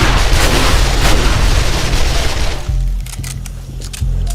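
Rapid gunfire in the zombie shooter game 7 Days to Die, loud sustained bursts of shots under a constant roar of combat, continuing in scattered pops as the volley thins out.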